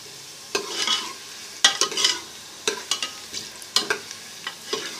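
Onions frying in a pan for daal, stirred with a utensil: irregular scraping and clattering bursts over a steady background sizzle, close and fairly quiet, with no talk.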